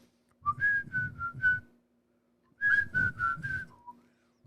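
A person whistles a tune in two short phrases of bright sustained notes, each a few seconds long and separated by a pause, close and clear against a quiet room.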